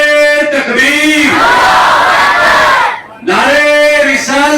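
A large crowd at a religious education conference in Baramulla roars a chanted slogan response in loud unison, the shout swelling and sustained for a few seconds, breaking off briefly, then rising again.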